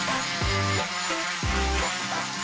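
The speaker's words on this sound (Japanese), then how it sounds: "1度目は180番のペーパーで削ったので、最後に240番で仕上げていきます。" A wood kitchen countertop, stripped of its urethane finish, is sanded with 240-grit sandpaper. Steady, dense, hissing friction rises and falls in repeated passes under a droning hum, close and continuous.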